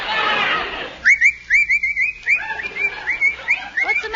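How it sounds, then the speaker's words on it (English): A man whistles a bright, choppy run of short rising notes in quick bursts after a brief rush of noise, close and fairly clear, with no talking. "What are you whistling for?"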